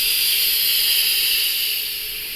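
Steam hisses hard from an Instant Pot's pressure-release valve as it is turned to manual release, a loud, steady, close rush that tapers slightly toward the end.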